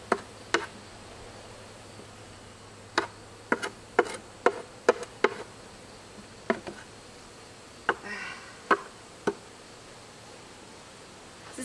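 Insects at a honey bee hive in September buzz faintly under a quiet background, punctuated by a dozen or so sharp, brief taps or flicks at irregular intervals, close by, with no talking.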